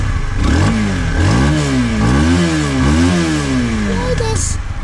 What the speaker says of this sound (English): So the engine sounds spotless